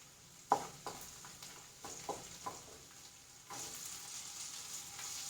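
Small onions sautéing in a pan for prawn roast: a faint, quiet sizzle with a few scattered scraping clicks of a spoon, the frying hiss swelling slightly in the last couple of seconds.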